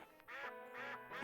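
Ducks in the Dink Smallwood game give repeated, drawn-out nasal quacks, two or three overlapping calls, fairly loud and continuous.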